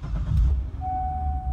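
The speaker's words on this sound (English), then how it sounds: "So let's fire this one up" A Torch Red 2011 Chevrolet Corvette with an automatic transmission fires up, its deep low rumble loud and close at first, then settling into a steady idle while a thin, sustained electronic chime tone sounds over it.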